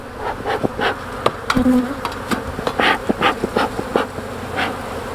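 Honey bees buzzing close around an open beehive during a pre-winter inspection, loud overlapping drones as individual insects fly past, rising and falling without speech.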